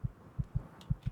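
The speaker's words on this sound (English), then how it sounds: "Oh, the heartbeat." Heartbeat effect in the video game Kimochii Classroom, five deep, muffled thumps in a steady pulse, close and prominent with no talk over them.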